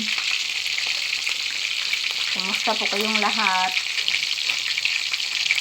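Steady, loud sizzling of fish frying in hot oil in a pan, continuous throughout, with a voice briefly speaking over it.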